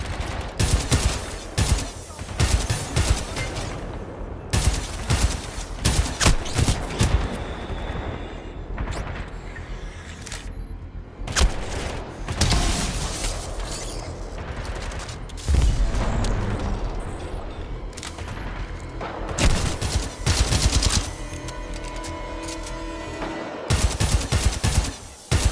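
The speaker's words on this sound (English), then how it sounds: "That sniper is serious, man." Heavy gunfire fills a video game battle with a sniper firing, dense volleys of sharp cracks and booms, some rapid automatic bursts, loud and nearly continuous with brief lulls throughout.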